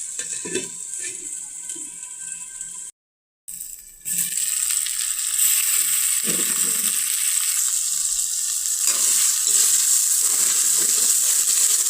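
Chopped tomatoes tossed into a hot pan for aloo gobhi set off a loud, steady sizzle after a brief silence, with occasional stirring scrapes, close and continuous.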